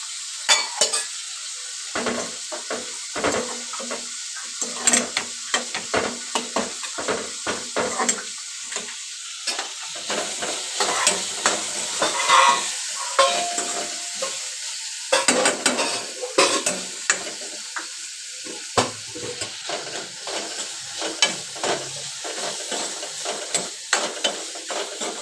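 Peanut powder mixture with water, salt and turmeric frying in oil, a constant sizzle broken by frequent clinking spoon strokes against the pan, close and clear, without speech.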